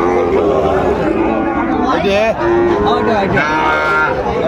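Sahiwal breed cattle at a livestock market, with loud drawn-out moos and lowing calls rising over a busy crowd of people talking nearby.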